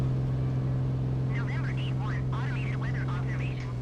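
A Piper Comanche's simulated piston engine drones steadily with a low, rough hum through the takeoff roll, sounding unhealthy, while a person talks over it throughout.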